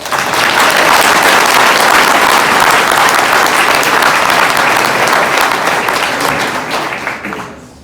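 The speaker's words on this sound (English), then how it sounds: "So let's give a round of applause for Jeff." Loud, sustained audience applause for a speaker, a thick wash of many hands clapping at close range that holds steady before tapering off at the end.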